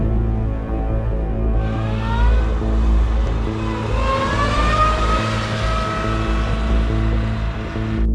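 A car engine hums steadily while the car reverses, a close, continuous low drone with faint rising whine tones and no talking over it.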